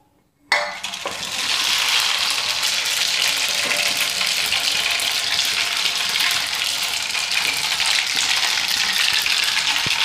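Mustard seeds hit hot oil with a sudden onset, then a loud, continuous crackling sizzle holds steady for the rest of the stretch, with no voices.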